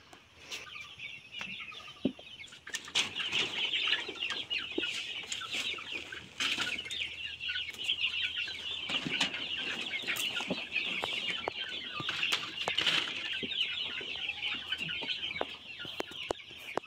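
Backyard chickens clucking steadily while being fed, a close busy flock with overlapping clucks, occasional sharper calls and scattered knocks and rustles throughout.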